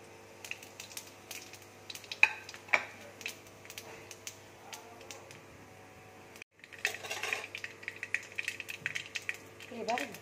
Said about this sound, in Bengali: দেখো তেল গরম হয়ে গেছে, এবার আমি শুকনো লঙ্কা ফোড়ন দিয়ে দিচ্ছি, পাঁচ ফোড়ন দিয়ে দিচ্ছি